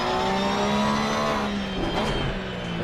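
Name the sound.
race car engine accelerating out of pit stop, Assetto Corsa Competizione video game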